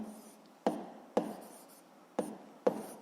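Pen on paper while a physics problem is written out by hand: quiet scratching strokes broken by four sharp taps or new strokes at about half-second intervals, close and faint, no talk.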